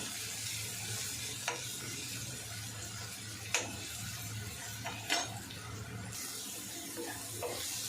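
Onion sizzling steadily in a hot pan while being fried for bhurji, with a few sharp scrapes and taps of a spoon against the pan over the soft, constant frying hiss.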